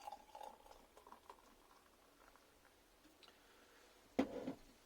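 Wilce's cider poured into a glass fizzes with a faint, fine crackling patter, ending in a louder splash-like burst of pouring near the end; quiet and close.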